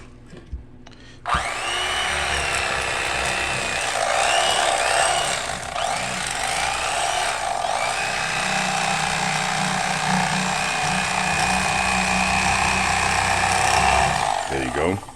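An electric fillet knife cutting through a catfish, starting after a brief quiet moment and then running as a loud, continuous high motor whine whose pitch wavers slightly with the load of the cut, before cutting off at the end.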